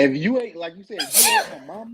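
One sharp, breathy sneeze bursts out in the middle of a man's conversational speech, with people talking before and after it.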